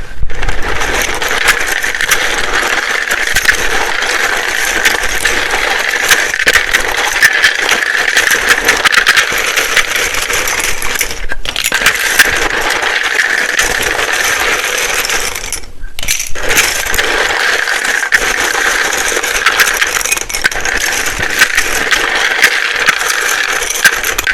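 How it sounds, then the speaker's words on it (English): Tarot cards are shuffled loudly and close to the microphone, a dense crackling riffle of card edges that runs almost continuously, with two short pauses between bursts. "It can be very loud when I shuffle these."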